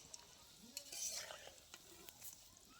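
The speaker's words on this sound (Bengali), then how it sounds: "এবার আমি অল্প অল্প করে তেলের মধ্যে দিয়ে দিচ্ছি" Prawn pakora batter dropped into hot oil in small portions for crisp pakoras, a quiet bubbling sizzle with brief stirring scrapes and small spatters, swelling once near the middle before settling back.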